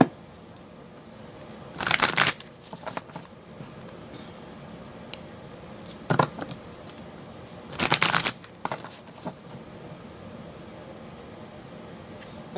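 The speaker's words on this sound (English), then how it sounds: "We'll shuffle these a little bit too." A deck of tarot cards is shuffled in several short, crisp riffling bursts separated by quiet pauses, close to the microphone.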